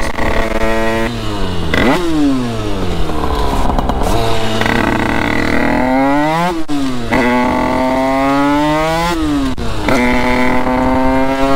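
A motorcycle, an 80 cc MHR machine, rides along a road, its loud close engine revving up through gear changes in repeated rising sweeps, with brief dips between shifts.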